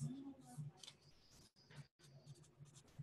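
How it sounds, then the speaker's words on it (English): A pen scratching across a sheet of paper as someone draws, short rustling strokes with brief pauses between them, close and quiet. "I'm going to draw it on a piece of paper too"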